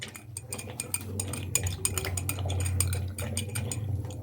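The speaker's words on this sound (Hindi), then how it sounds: "अब इसको हम अच्छे से मिक्स करेंगे" Homemade tomato ketchup stirred after half a cup of white vinegar goes in, a spoon scraping and clinking rhythmically against the pot with a wet, thick slosh underneath, close and steady.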